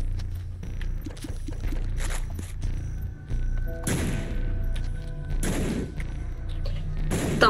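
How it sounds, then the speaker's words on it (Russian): Golden bombs blowing up in The Binding of Isaac: Repentance, several loud explosive bursts spread across the stretch over steady game music, with thuds and debris crackle between them. "Золотые бомбы. Взрываем все."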